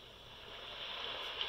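Steady, soft rushing noise like distant ocean surf from an air purifier's ocean sound setting, a continuous wash with no breaks or voices, fairly quiet throughout.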